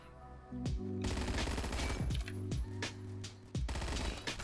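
Long, loud bursts from a PPSh-41 in the WWII shooter game Phantom Forces rattle nearby, a continuous rapid chatter of shots broken by brief pauses between strings of fire.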